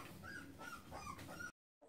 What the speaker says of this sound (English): I've got two little puppies begging to come on my lap.